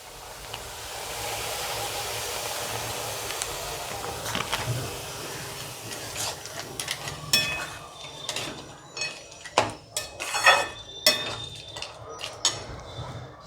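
Batasha sugar drops being stirred into a carrot laddu mixture in a pan: a soft, steady scraping gives way to sharper, irregular scrapes and clinks that grow louder and more frequent toward the end, with no voices.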